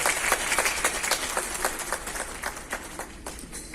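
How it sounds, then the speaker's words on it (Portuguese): An audience at a nursing forum in Tocantins gives a round of steady hand clapping for the nursing union president, moderately distant and fairly quiet, with the rapid claps continuing throughout. "Aplausos ao presidente"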